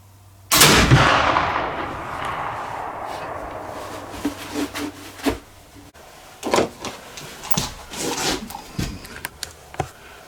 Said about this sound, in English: With the third shot with the 80 grain charge, I'm not sure this rifle's going to like that 80 grain load